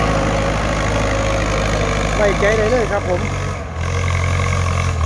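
A Ford 6600 tractor plows a rice field for hire with a six-disc plow, its engine holding a steady, low drone throughout while someone talks over it.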